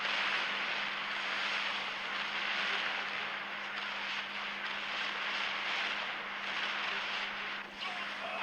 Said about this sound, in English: now here comes the helicopter.